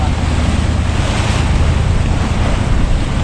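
Strong northeast monsoon wind at sea, heard from a large fishing boat, with loud steady wind roar and crashing waves plus a low engine-like rumble underneath, continuous and close.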